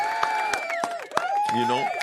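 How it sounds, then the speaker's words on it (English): Audience cheering and applause at a stand-up comedy show, a crowd roar with whoops rising under and around a voice, a loud, lively burst filling the room. "Round of applause for Philly"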